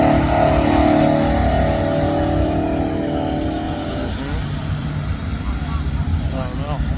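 Drag racing cars, a 1966 Impala and a 1973 Duster, roar at a dragway with a loud continuous engine drone and revving, while a commentator talks over the noise throughout.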